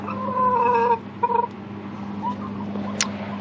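Chickens in a backyard hutch make a short burst of clucking and calls over a steady low hum, followed by scattered faint clucks and a brief sharp call near the end.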